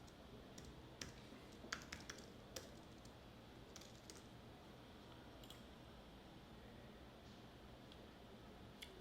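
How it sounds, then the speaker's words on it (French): Faint keystrokes on a computer keyboard as a search query is typed, a scatter of light clicks in short bursts over a quiet, steady background hiss. "je tape comment gagner de l'argent"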